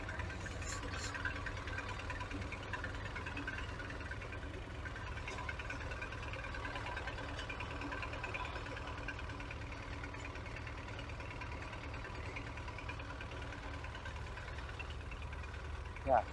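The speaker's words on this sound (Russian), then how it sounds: "уже второй трактор завел" Tractor engine idling after being started, in winter on a collective farm during snow clearing; a steady low rumble runs continuously throughout with a faint knock, close and even.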